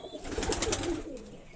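A green high-flying pigeon gives a brief, soft, close coo lasting about a second, with light background noise.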